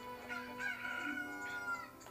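A rooster crowing with a cluck in the Ocarina of Time game, one drawn-out tonal cock-a-doodle-doo close and clear, heard alone without speech.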